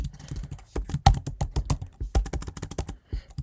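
Rapid tapping on a computer keyboard while form details are entered, a close, uneven run of key clicks with brief gaps and no talk.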